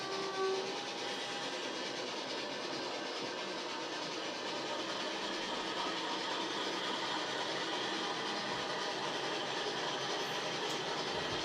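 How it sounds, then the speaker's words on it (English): Model railway trains run on a layout, a steady rumbling and rattling of wheels on track that continues evenly throughout, with a brief whistle-like tone near the start. "There we go, 2 trains running on the stream at once."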